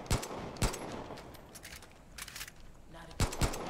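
Sharp gunshots in the video game Far Cry 5, a few isolated loud cracks spaced irregularly with a quick double shot near the end, over faint background game noise and talk.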